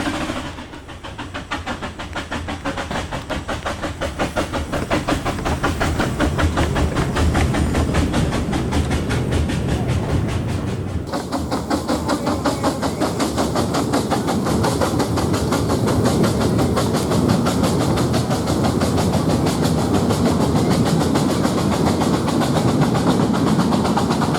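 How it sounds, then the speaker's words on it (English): Prairie 2-6-2 tank steam locomotive working hard up a steep 1 in 29 gradient, a loud continuous rhythmic chuffing and clanking rolling steadily close by with no voices. "this powerful tank engine seems to make light work of the line's 1 in 29 gradient"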